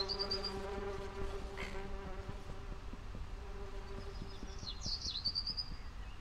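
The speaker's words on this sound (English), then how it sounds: "Bees, can you just kind of fuck right off and go on by?" Bees buzz in the horror video game Lakeview Cabin 2, a steady insect drone running the whole time alongside tonal game sounds, with no one talking.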